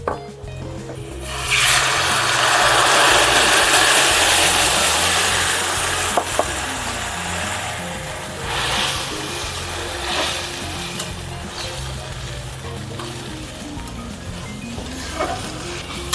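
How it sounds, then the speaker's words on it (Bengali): Kadhi curry hitting a pan of onions fried until reddish-brown, giving a loud broad sizzle that swells after the first second and holds strong, then settles into a steady lower crackle with occasional stirring scrapes. "পেঁয়াজটা লাল লাল করে ভাজা হয়ে গেছে। এবার কারিটা আমি এর মধ্যে দিয়ে দেবো।"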